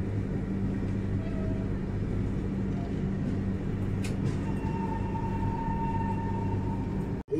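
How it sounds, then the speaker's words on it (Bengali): A local train rolls past near Sealdah with a loud, steady rumble and clatter of wheels on rails, close and continuous, with a brief high screech partway through. "এখানকার লোকাল ট্রেন এটা।"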